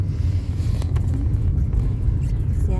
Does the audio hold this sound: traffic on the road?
yes